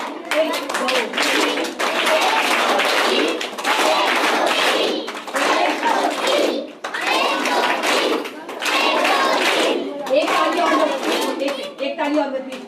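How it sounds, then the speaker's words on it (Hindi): A group of children clap loudly together in a classroom-style gathering, sustained bursts of dense applause with short pauses, and children's voices mixed in. "इसलिए एक बार बच्चों अपने लिए जोरदार ताली बजाओ।"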